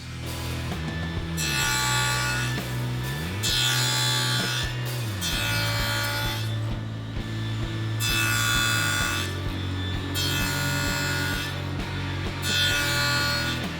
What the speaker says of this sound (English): In order to make the box joints for the main body of the sewing box, I'm going to use my iBox by Incra.